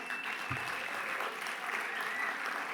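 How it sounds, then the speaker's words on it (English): Audience at a plenary luncheon applauds steadily, a dense, even patter of many hands clapping throughout with no voices over it. "Another round of applause for Major League Baseball and for these young champions."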